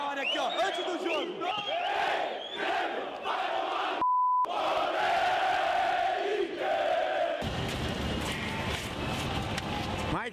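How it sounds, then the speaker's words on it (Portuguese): Internacional football supporters gather before a Grenal derby, a dense crowd chanting and shouting nearby, with a short beep cutting in midway and the roar continuing afterward; voices talk over it. "Olha a torcida do Inter como que é da hora aqui, ó. Antes do jogo."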